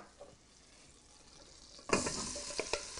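Pork chops go into hot oil in an Instant Pot and sauté with a sudden bright sizzle that jumps in partway through, preceded by faint handling, then crackles on with a few sharper spatters.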